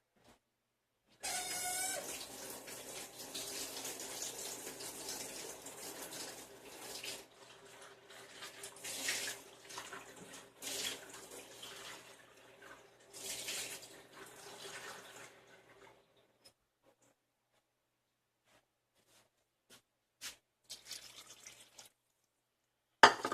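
Warm water runs from a kitchen tap for about fifteen seconds, a steady close hiss and splash that varies as the flow or container shifts, then stops, followed by a few faint clicks and clatters.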